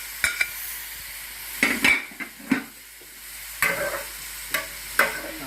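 Chili goes into a hot stir-fry pan, a low steady sizzle broken by sharp, intermittent scrapes and clacks of stirring, close and with no one talking.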